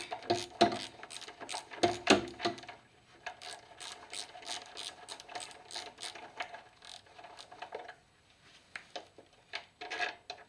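Bolts being backed out with a ratchet on a 1976 Jeep CJ5, rapid close clicking bursts of the pawl repeating in quick runs, with pauses and some metallic handling in between.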